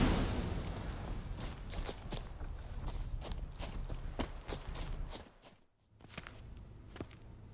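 Horses' hooves clip-clop steadily on hard ground, a close, rhythmic run of hoof strikes that briefly fades and then resumes.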